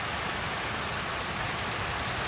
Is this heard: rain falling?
yes